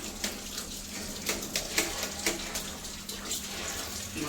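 A running water tap splashes steadily as hands are washed beneath it, a close, continuous gush with small irregular bursts of splashing throughout.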